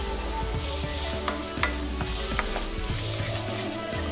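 White wine sizzling in a pan of green garlic risotto rice as it is stirred, a steady close-up frying hiss with repeated scraping strokes of the spoon against the pan, no voices.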